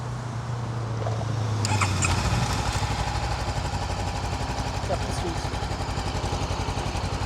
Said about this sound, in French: C'est une moto capricieuse, Honda.